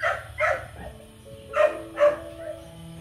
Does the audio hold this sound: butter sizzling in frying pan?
no